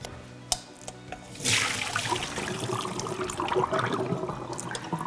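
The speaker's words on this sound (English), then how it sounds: "So now I'm going to strain the pasta." Cooked pasta water pours through a strainer in a kitchen: after a couple of soft knocks, a sudden loud rush of splashing water starts and keeps running steadily, close by and without talk.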